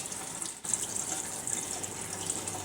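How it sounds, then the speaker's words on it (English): Cool tap water runs over frozen blanched potatoes, a steady close splashing rush with a brief dip as the stream shifts before resuming, no talking heard. "I'm going to just run a little bit of cool water over the top of these and break them up a little bit"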